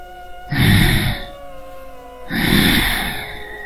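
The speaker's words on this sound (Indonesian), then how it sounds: "Suara nafas itu terdengar pelan, berat dan sangat dekat." Two slow, heavy breaths close up, each a long airy exhale with a low rasp, separated by a brief pause.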